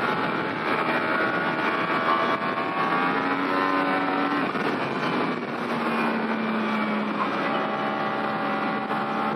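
A 2018 Yamaha YZF-R1 motorcycle accelerates hard on a race track, its engine a loud, continuous high-revving drone with pitch that climbs and shifts steadily throughout, with no talking.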